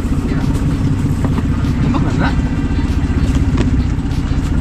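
A motorcycle engine runs steadily up close throughout, a continuous low rumble with people talking over it.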